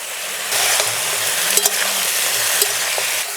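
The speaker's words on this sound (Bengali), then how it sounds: "এবার উনুনের জাল বাড়িয়ে দিয়ে মশলা দিয়েছি, একটু ভেজে নেব।" Spices frying with eggplant in a hot pan for a fish-head muri ghonto, a steady close sizzle with a few scraping stirs and light clinks, no voices.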